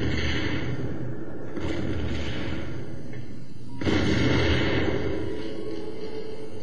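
A radar dish blows up in System Shock 2, a deep booming blast with rumbling roar, following an earlier smaller burst, loud over a continuous game background hum.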